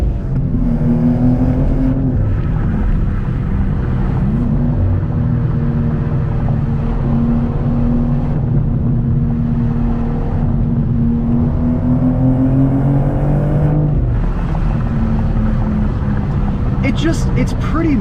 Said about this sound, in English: It's just the stock exhaust, even with the valves open, for me, it's not that crazy. A little bit of gurgles, which I do like.